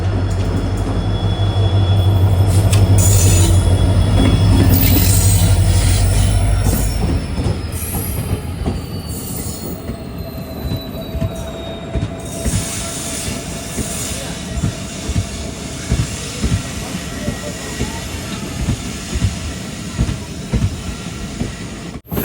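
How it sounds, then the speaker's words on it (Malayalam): The Nagaland Express rolls into Sivasagar station on a curve: a loud heavy rumble with squealing wheels gives way to rhythmic clattering wheel clicks as the train slows. "ട്രെയിനിപ്പോൾ സിപ്സാഗർ റെയിൽവേ സ്റ്റേഷനിലേക്ക് എത്തുകയാണ്."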